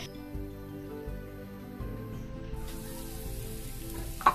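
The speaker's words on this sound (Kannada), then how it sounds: "ಒಂದು 3-4 ನಿಮಿಷ ಇದನ್ನು ಹಾಗೆ ಲೋ ಫ್ಲೇಮಲ್ಲಿ ಇಟ್ಕೊಂಡು ಸಾಟ್ ಮಾಡಿ" Chicken stuffing for chapati sautés on low flame with a soft, steady sizzle, faint stirring and a light tap near the end, no talking.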